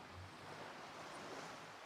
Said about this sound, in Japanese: 波の音が耳心地いいポコ。